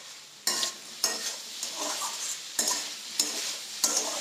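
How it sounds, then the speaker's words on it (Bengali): Water hits a hot pan of sizzling curry in repeated bursts, each a sharp hiss that swells and fades, about six times over a few seconds with quieter bubbling between. "এবার জল দিয়ে দেবো আমি"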